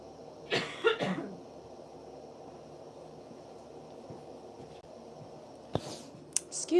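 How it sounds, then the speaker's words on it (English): Two or three harsh coughs come close together near the start. After a quiet, muffled stretch, a few more brief sharp sounds follow near the end. "I'm going to take my microphone off to have another cough."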